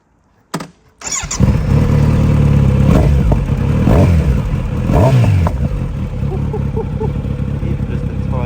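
A Kawasaki Z900RS motorcycle engine starts with a sharp crank and catches, then idles loudly up close with several short blips of revving.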